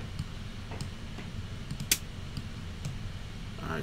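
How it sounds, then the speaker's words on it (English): Hi-hat sample auditioned for a beat in Logic Pro X: a few crisp, dry ticks with one sharper, brighter hit near the middle, over a low steady background hum. "that's a dope hi-hat right there"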